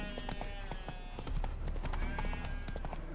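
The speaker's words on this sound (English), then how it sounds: "Spooking my horse." Hooves of Roach, the horse in The Witcher 3: Wild Hunt, clopping in a quick, dense rhythm, loud and close over a layered game soundscape.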